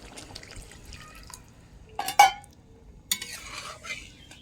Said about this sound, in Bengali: এবার এর মধ্যে জল দিয়ে দেবো, আর মশলা ধোয়া জলটাই দিলাম